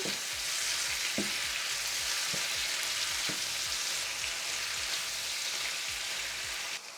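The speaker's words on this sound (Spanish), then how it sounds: "cuando la cebolla empieza a tomar color y a caramelizarse, agregamos el pulpo. Mezclamos muy bien." Already-cooked octopus sizzles loudly with caramelizing onion in a hot pan, a dense, steady hiss with regular dull thumps from the spoon mixing it.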